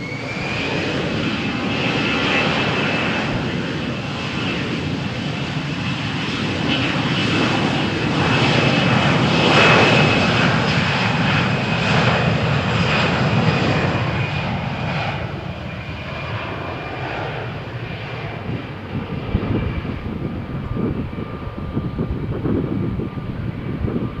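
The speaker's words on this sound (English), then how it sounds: "Oh, perfect takeoff, no problems" An airliner takes off from runway 13 at Malaga Airport on a stormy morning. The loud engine roar rises with a high whine, peaks, then slowly fades as the jet climbs away, with no talk over it.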